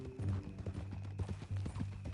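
A horse's hooves clip-clop at a steady walking pace in Red Dead Redemption 2, a string of close, soft thuds over a low hum of ambient game sound.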